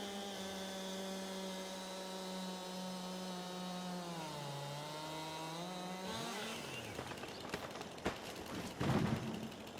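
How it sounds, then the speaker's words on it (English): A chainsaw in Farming Simulator 22 drones with a steady, buzzing engine note as it cuts a large tree trunk. The pitch dips and rises, then breaks into rougher, louder crackling and thumps as the cut progresses. "so the chainsaw is running pretty good"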